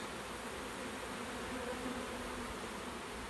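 A huge honeybee swarm hums in a dense, continuous drone that stays steady and fairly loud for the whole stretch, with no voices over it.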